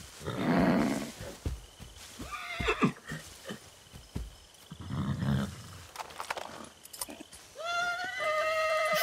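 A horse in Far Cry 6 whinnies and snorts in bursts, close and fairly loud, with hoof clatter between the calls and a long high neigh at the end.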